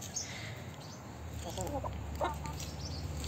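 Free-range backyard chickens cluck softly while dust bathing on a farm, a few short murmuring calls from nearby hens over a steady low outdoor hum.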